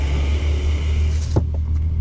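A car power window on a Jaecoo J7 SHS hybrid SUV whirs shut beside a truck-filled roadside, its steady motor hum running under constant road rumble and ending with a short thump as the glass seals.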